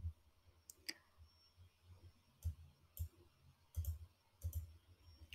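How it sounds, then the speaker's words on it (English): Sparse mouse clicks as a cursor hits a connect button on a computer, five or six short, quiet taps spaced irregularly over a low background hum, with no talking. "Click on connect button."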